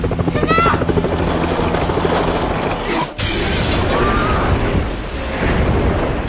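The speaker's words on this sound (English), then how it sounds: "the girl saw a rescue helicopter passing by" A helicopter's rotor thumps loudly and steadily overhead, with a brief dip in the middle before the heavy chopping resumes.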